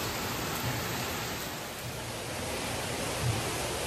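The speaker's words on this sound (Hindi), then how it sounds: "कितनी तेज़ सी बारिश हो रही है, भयंकर वाली, इसे कहते हैं बारिश यार" Heavy rain pours down in a steady, dense roar, loud and close, with no voices over it.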